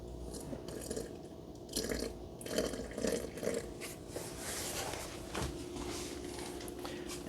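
Water is poured into a sourdough starter of flour in a container on a kitchen scale, a soft, uneven trickling and splashing that comes in faint bursts close by.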